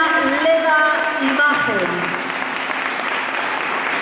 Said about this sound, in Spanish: seguir aplaudiendo